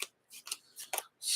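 Marvel Champions game cards are shuffled by hand in several short papery riffle bursts with brief gaps between them, close and fairly quiet, with no talking.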